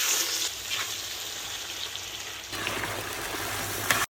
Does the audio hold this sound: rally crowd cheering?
no